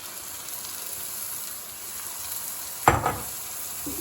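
Steady sizzling from a hot pan, with a brief louder crackle and splash of frying partway through as washed white urad lentils are added.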